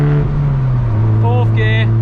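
Mazda MX-5 Mk2 accelerating in third gear with the windows down, a steady droning engine note with a slight pitch shift heard from inside the cabin, with someone talking over it.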